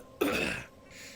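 A single short, throaty cough, or a harsh clearing of the throat, sounds close up in a VRChat roleplay scene and then drops back to quiet room tone.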